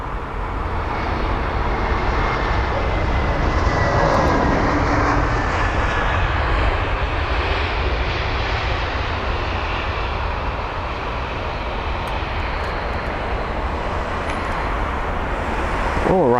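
Airliner landing on the runway at London Heathrow, a steady loud roar of engines and rushing air lasting throughout, with faint voices underneath.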